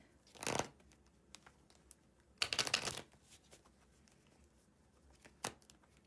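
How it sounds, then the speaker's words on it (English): Tarot cards are pulled and shuffled close up in short bursts: a quick riffle, a longer flurry of card flicks, then one final brief snap, with quiet pauses between. "Let's pull some tarot cards."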